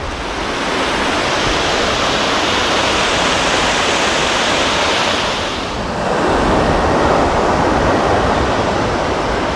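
Water pours steadily over a weir on the River Soar in Leicester, a loud, continuous broadband rush close by that briefly dips and then swells again; no one speaks.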